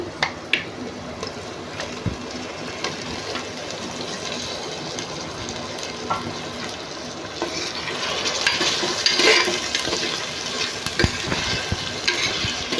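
Mutton pieces go into a hot pan of oil with garlic paste and turmeric, hissing and sizzling steadily up close, with a few stirring knocks and a louder burst of sizzle late on. No one speaks.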